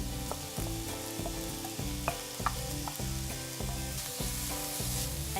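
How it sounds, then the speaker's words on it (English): Chopped garlic frying in a pan with softened onions, making a steady close-up sizzle and crackle under rhythmic background music. "I'm gonna go ahead and add the garlic that we chopped up"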